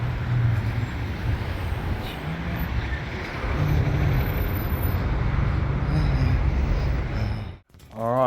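A passenger train rolls along the rails on the way to Tempe, heard from inside as a steady, loud rumble with mechanical rattles. A short dip comes near the end.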